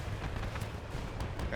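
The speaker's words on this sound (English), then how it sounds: "Oh, there's cannons there." Cannon fire in the vehicle combat game Crossout, a dense, rumbling barrage of booms that stays loud across the whole moment, with someone talking over the gunfire.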